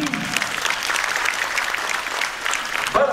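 A crowd in an audience at the final of a song competition applauds in a steady, dense wash of clapping throughout. A brief voice-like sound cuts in near the end.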